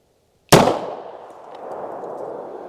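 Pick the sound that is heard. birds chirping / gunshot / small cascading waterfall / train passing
gunshot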